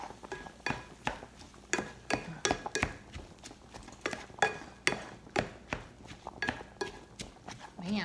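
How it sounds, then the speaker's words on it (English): Zucchini being stirred into a large batch of filling for stuffed bell peppers, heard as repeated clinks and scrapes of a utensil against a pan in an irregular, fairly close rhythm. "we're putting in our zucchini to our mixture. And in it goes. Just stir it around a little bit"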